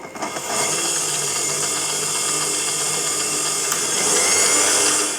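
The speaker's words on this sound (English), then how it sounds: "we're going to beat this until the sugar is completely dissolved" An electric mixer whirs steadily as it beats egg yolks and caster sugar in a bowl, a continuous loud high buzz that swells slightly toward the end.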